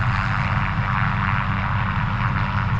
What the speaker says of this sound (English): excuse the helicopter noise in the background